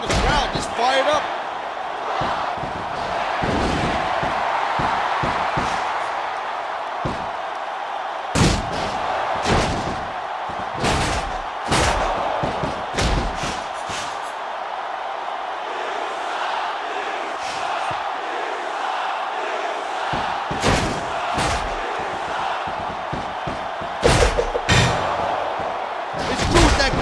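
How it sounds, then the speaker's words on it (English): A wrestling crowd in the WWE SmackDown vs Raw video game cheers and roars steadily, broken by repeated sharp ring slams and impacts, with commentator voices talking over it. "I can't remember the last time I seen the crowd this fired up"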